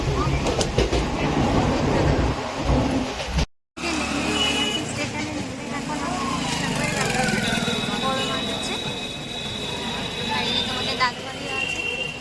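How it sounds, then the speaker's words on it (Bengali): A passenger train from Sealdah to Naihati rumbles and clatters steadily on the rails, heard from inside a carriage with a brief dropout and a high whine later on. "শিয়ালদা থেকে আমরা এখন নৈহাটি যাওয়ার ট্রেন উঠে পড়েছি"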